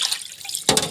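Water is tipped out of a bowl of sardines being washed, a sudden splashing pour after a stretch of quiet dripping, close and fairly loud.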